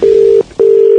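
A telephone line gives its ringing tone during an outgoing call: two loud, long, even tones separated by a short gap, with no talking.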